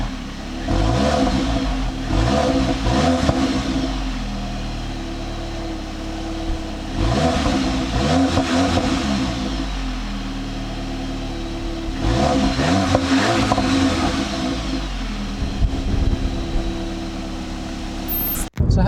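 Heard from outside, a Volkswagen Polo GTI engine revs repeatedly in loud rising and falling bursts, settling to a steady idle between them and cutting off sharply at the end.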